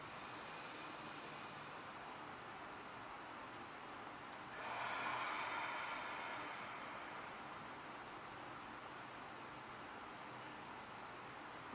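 One breath during a dynamic yoga session for strengthening the abs, drawn in through the nose and released through the mouth: a soft, faint airy swell lasting about two seconds over steady background hiss, with no talking.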